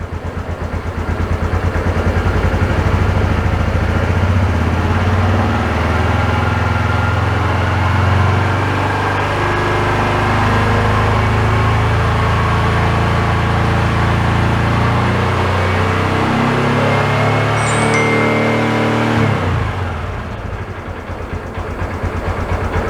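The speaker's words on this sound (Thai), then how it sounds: "เดี๋ยวผม สตาร์ทแล้วก็ลองเพิ่มรอบขึ้นดูนะครับ ว่ามันจะดัง กี่เดซิเบล" A loud engine with an open, split exhaust pipe roars steadily close by for about twenty seconds, a dense rumbling drone that then cuts off abruptly, leaving quiet.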